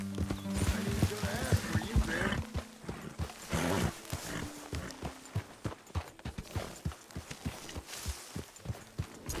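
A horse in Red Dead Redemption 2 trots along, its hooves clip-clopping in a steady, quick rhythm. A neigh and a snort come early, and faint voices are heard underneath.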